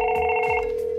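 A Fanvil intercom phone rings on an incoming speed-dial call, a steady loud electronic ring tone held close and continuous for the whole moment, with no talk.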